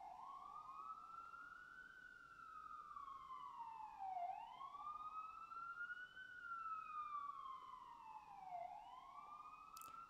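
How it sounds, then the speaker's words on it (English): Emergency vehicle sirens pass outdoors, a loud rising-and-falling wail sweeping up and down in long repeated cycles, with a second tone layered above and steady traffic rumble underneath. "Here comes the sirens."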